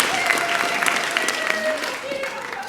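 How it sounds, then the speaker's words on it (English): A live audience claps in steady, sustained applause that fills the stage venue, with a performer's voice talking over the clapping throughout. "So, can you give a big round of applause to welcome to the stage Dr. Rachael Sceptisizzle?"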